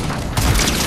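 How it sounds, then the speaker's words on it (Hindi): A War Machine turret in Fortnite fires on its own, a loud burst of heavy booming shots that swells after a brief lead-in and keeps pounding, with no voices over it. "ये काइंड ऑफ सपोर्टिंग फायर है, यू नो ये ऑटोमेटिकली ये फायर कर रहा है"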